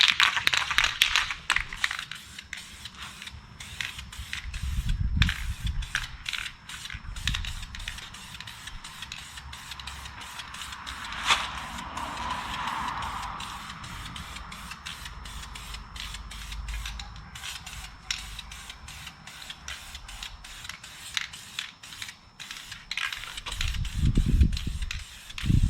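A spray can lays a light coat of paint onto wheels in steady hissing passes, broken by short bursts and pauses, with faint rustling handling noise around them and no talk.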